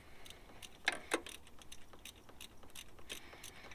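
A ratchet wrench loosening the spark plugs of a Subaru STI engine, a quiet run of quick, evenly spaced clicks with a couple of sharper metallic taps, close by and with no talk.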